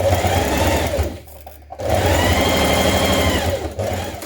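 A sewing machine stitches the crotch lining of a gymnastics leotard, running loud and close in a steady whirring burst, pausing briefly, then running again.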